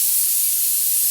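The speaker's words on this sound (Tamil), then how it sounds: "சாப்பாடு விசில் வருது" A pressure cooker cooking rice vents steam in a loud, continuous, steady hiss that fills the whole moment, with no other sounds.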